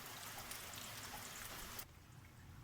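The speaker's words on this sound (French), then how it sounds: "ça continuera de pleuvoir comme ça toute la nuit à mon avis" Steady rain falls through an autumn night in Amoncourt, a continuous broadband patter that drops abruptly in level near the end, then continues more softly.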